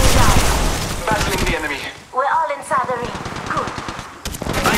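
Rapid automatic gunfire in Apex Legends Mobile, dense and loud, with a brief lull before bursts resume, game voice lines and talking over the shooting.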